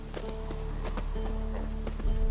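Hooves of Roach, a horse in The Witcher video game, beat out a steady, rhythmic clip-clop at a quick gait over a low rumble, close and clear. No one talks over it.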